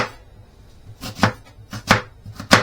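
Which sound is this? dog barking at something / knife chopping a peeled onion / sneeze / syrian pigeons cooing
knife chopping a peeled onion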